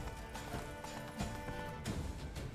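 Roach, a horse in The Witcher 3, gallops along with a steady, rhythmic drumming of hooves, fairly close and continuous, with faint game ambience underneath.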